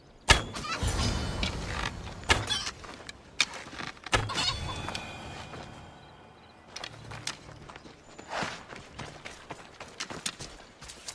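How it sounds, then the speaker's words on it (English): Chicken clucking and fowl sounds in the Assassin's Creed Odyssey video game, heard amid busy game ambience with hoof clip-clops and scattered sharp transients, moderately loud with no talking. "Now I'm going to show you how to kill a chicken."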